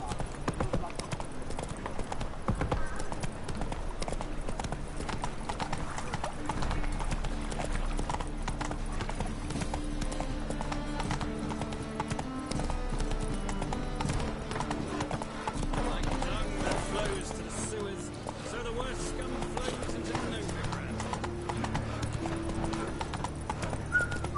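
Geralt's horse Roach galloping in The Witcher 3 game, with rapid, steady hoofbeat clip-clops and an occasional whinny continuing throughout beneath a voice talking over the action.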